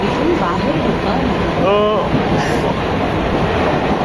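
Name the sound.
train ride from Mumbai to Mahad in rain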